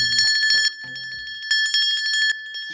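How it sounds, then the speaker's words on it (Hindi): Small metal bell in a Hindu temple rung in quick bright bursts, a clear sustained ring with clustered strikes, a short pause, then a second round, close and fairly loud. "यकीन ना हो तो मैं घंटी बजाता हूँ ना"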